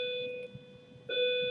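A bell rings from a video playing in a classroom, sustained tones that break off briefly and then resume, heard faintly as if through a speaker.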